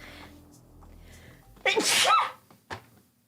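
A single loud, close sneeze bursts out after a quiet stretch, followed by a brief sniff or exhale.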